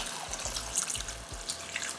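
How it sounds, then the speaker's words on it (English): Water pouring from a vessel into a stew pot of Caribbean oxtail and lentil peas, a faint splashing trickle with a few soft low thumps as it lands. "going to go in with about 2 cups of water."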